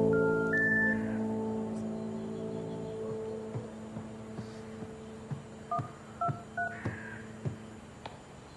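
Telephone keypad dialing tones, a quick run of electronic beeps near the start followed by a series of short dial-tone pips, clear and alone with a faint hum underneath.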